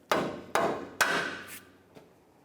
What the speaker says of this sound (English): now we can just take a rubber mallet